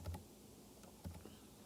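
Typing on a computer keyboard, a few soft scattered key clicks, quiet and close, with a sharper tap at the very end.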